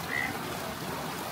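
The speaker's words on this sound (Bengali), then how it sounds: "ঠিক রাত 8টায় বৃষ্টি নামলো।" Rain falls at night at Gorumara Nest, a jungle resort, as a brief, steady, even hiss of downpour with no other distinct sounds.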